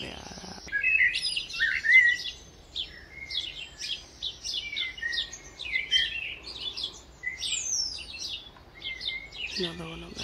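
A blackbird sings its morning song nearby, a varied run of fluting whistles and chirping phrases repeated in short bursts, with a soft outdoor background and a brief human sound at the end.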